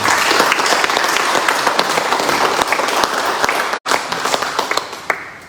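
A crowd applauds Mauritian athletes and coaches after the Indian Ocean Island Games in Madagascar, with steady, dense clapping that dips briefly near the end before resuming.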